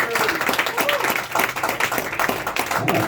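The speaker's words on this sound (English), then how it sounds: "I got claps. I didn't get snaps." Audience clapping after a spoken-word poetry piece at a Soul Sessions performance, a steady, fairly close patter of many hands with a scattered, uneven rhythm running through the whole stretch.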